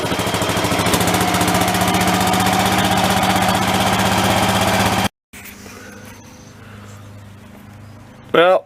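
A garden tractor engine runs at a rough, uneven idle, loud and steady with a knocking pulse, then cuts out briefly and restarts fainter with clanks and a short loud burst at the end.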